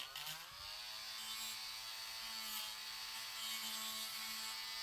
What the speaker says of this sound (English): now what I have to do is I go in with my hand Dremel